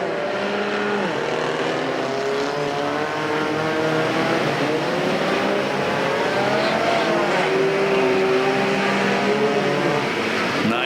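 Mini stock race cars roar around a figure 8 track at Perris Auto Speedway, several engines layered and whining through rising and falling revs, loud and continuous, with faint commentary beneath.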